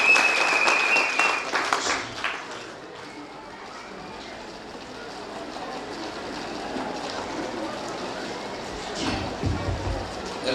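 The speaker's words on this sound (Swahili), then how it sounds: "tumpigie makofi anapokuja" An audience at a church sermon and wedding reception claps together. The applause is fairly soft, strongest at the start, then settles into a steady patter that carries on to the end.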